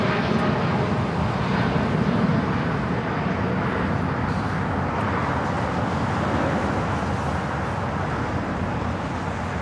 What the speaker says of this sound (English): And this Dreamliner caught me off guard here.